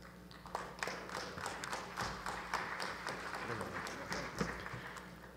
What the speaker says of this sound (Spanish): a quien lo recibimos con cálidos aplausos.